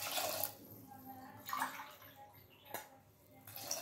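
Water is poured into a pressure cooker holding vegetables in a home kitchen, heard as faint splashing bursts separated by short quiet gaps.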